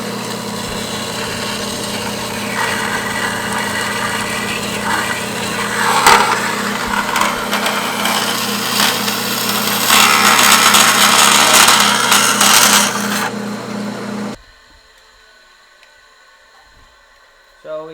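Loud grinding and rasping of a power tool cutting a notch for the drain in a radiator fan shroud, continuous for about fourteen seconds with rising intensity, then stopping abruptly into quiet.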